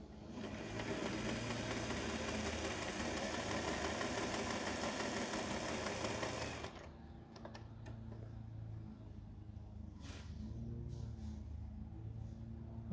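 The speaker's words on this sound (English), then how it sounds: "we're going to sew it on a 1/4 inch seam allowance" A sewing machine runs in a fast, steady whir as quilt pieces are stitched along a quarter-inch seam, then stops partway and leaves faint handling noises.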